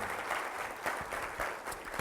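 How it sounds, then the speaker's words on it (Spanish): Audience applause fills a church broadcast, a steady wash of clapping hands from a congregation that swells in a few waves over two seconds. "Vamos a darle un aplauso al Rey de Reyes y Señor de Señores, Jesucristo."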